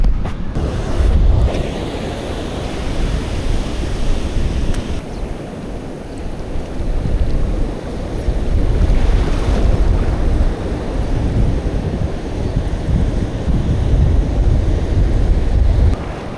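Ocean surf on a South Coast beach roars steadily and loudly, with waves surging and washing in and heavy wind buffeting the microphone throughout, no voices.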